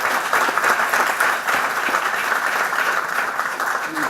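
An audience at a legal services seminar panel discussion claps steadily in sustained applause, fairly close and even throughout.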